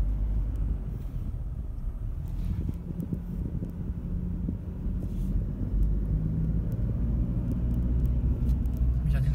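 A car reversing gives a steady, rough low engine rumble throughout, close and continuous, with some wind noise on the microphone.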